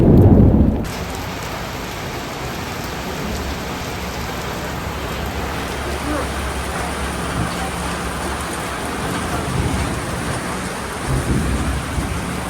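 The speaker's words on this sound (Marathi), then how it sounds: "पाऊस आता वाढलो हा, खूप भयानक मोठ्यान पडता" Heavy April rain pours steadily with a deep thunder rumble at the very start, followed by a continuous loud hiss of downpour and a few swells, with no talk.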